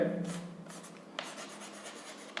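A pen scratches on paper in short strokes and scribbles during a class 10 maths lesson on quadratic equations. The strokes are close and fairly soft, with no talk over them.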